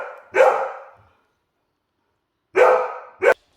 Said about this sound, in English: I've got 2 lovely golden retrievers, but they make so much noise sometimes.